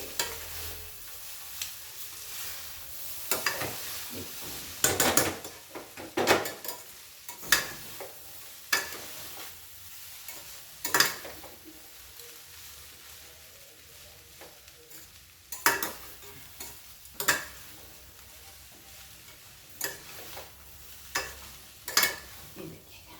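Poha being stirred in a pan with two spoons, the metal spoons clinking and scraping in sharp irregular bursts over a low continuous sizzle, close up, with no speech.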